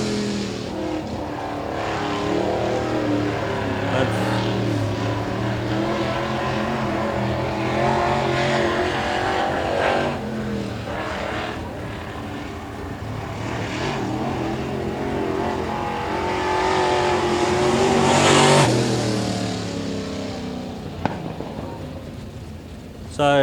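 Modified race cars run time-trial laps on a track, their engines droning and swelling loudly as they pass near, with a commentator talking over the noise.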